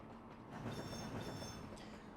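A TGV Thalys high-speed train runs on rails in Trainz Simulator 2 near Paris Gare du Nord, a steady close rumble of wheels and motors with faint rail clatter and a brief rise in loudness midway, no voices.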